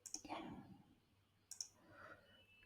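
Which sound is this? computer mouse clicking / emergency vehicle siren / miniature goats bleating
computer mouse clicking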